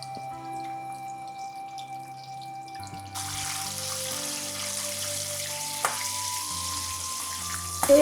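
Crushed garlic and slit green chilies frying in hot oil for karhi pakora in a home kitchen, a steady close sizzle that swells and brightens partway through, with faint clinks and no talking.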